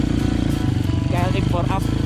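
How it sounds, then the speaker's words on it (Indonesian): Motorcycle engine with an uneven, sputtering idle on a savanna mountain trail at Gunung Susu, Trawas, running steadily and close throughout while a person talks briefly over it. "Itu motor itu rada brebet."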